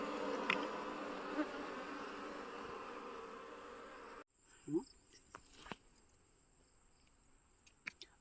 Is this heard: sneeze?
no